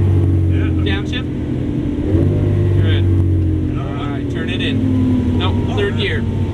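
A Lamborghini Aventador engine drones loudly and climbs in pitch as it accelerates through upshifts on a racetrack, with a voice talking over it.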